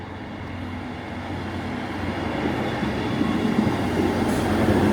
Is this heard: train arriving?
yes